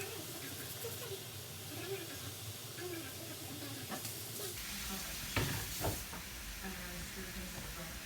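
Ground beef for lasagna frying in a pan as it is stirred, a steady close sizzle and hiss with scraping strokes around the middle, a voice briefly speaking underneath.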